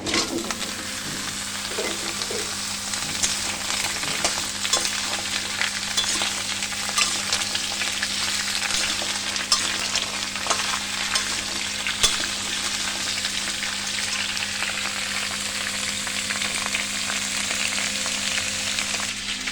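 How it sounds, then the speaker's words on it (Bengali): Potatoes, pumpkin and Malabar spinach fry in hot oil in a pan, making a steady, dense sizzle. It runs evenly without a break, with faint stirring scrapes and no voices. "আলুটা লাল লাল করে মোটামুটি ভাজা হয়ে গেছে এবার আমি কুমড়ো আর পুঁই শাকটা দিয়ে দেব"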